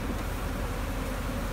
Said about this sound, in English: These bees are just going bonkers.